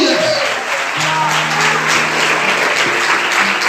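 Steady applause from a church congregation during a sermon fills the space, with a sustained tone underneath, moderately loud throughout.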